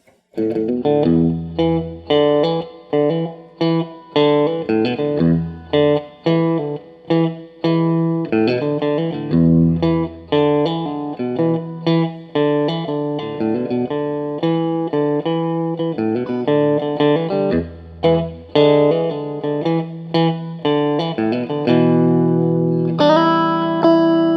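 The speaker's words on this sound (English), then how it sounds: "this is the neck pickup mixed with the bridge pickup" An electric guitar with neck and bridge pickups mixed plays a lively run of notes and chords through a crunchy, slightly distorted tone, ringing out on a final chord.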